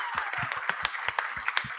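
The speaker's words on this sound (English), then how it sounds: "give this man a round of applause" Audience applause at a Bitcoin conference, a short burst of brisk, fairly close hand claps with a steady, dense rhythm.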